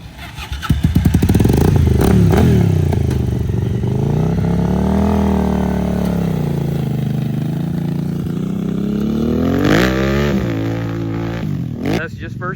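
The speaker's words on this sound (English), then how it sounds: "go ahead and give it a little rip out there" A homemade mini bike engine starts and revs hard, its loud rising and falling drone sustained up close throughout, climbing again toward the end, with people talking over it.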